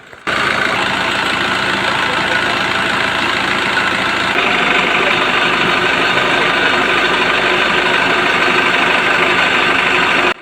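A loud, steady truck engine idling close by, rumbling evenly throughout with no voices.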